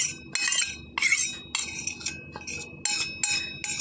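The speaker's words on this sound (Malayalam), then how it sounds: "ഇത് നമ്മൾ മിക്സ് ചെയ്ത് നല്ലപോലെ മിക്സ് ചെയ്ത് എടുക്കാം" A spoon mixes a thick glycerin face pack in a small bowl, giving repeated bright clinks and scrapes in irregular bursts, close and clear, with no speech.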